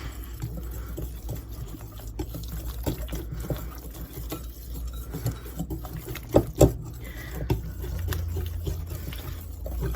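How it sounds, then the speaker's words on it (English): A whisk works through a keto crème brûlée custard mixture of cream, salt and sweetener in a bowl, giving a steady soft liquid swishing with faint taps and a couple of sharper knocks, no talking. "I'll grab my whisk, and I'm going to whisk all this together"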